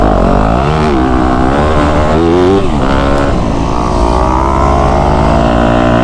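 A Yamaha YZ250F dirt bike roars steadily on a motocross track, its engine loud and close with pitch rising and falling through throttle changes across the whole stretch.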